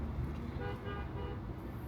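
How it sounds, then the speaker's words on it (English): A car horn honks in city traffic, with short toots that sit low and muffled beneath a steady rumble of road noise and engines, heard from a distance. "These people honking at each other"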